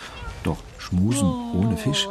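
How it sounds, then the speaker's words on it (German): A domestic cat meows several times in short, rising-and-falling calls, close by, with a person speaking German over and between the meows. "Das ist die Katze."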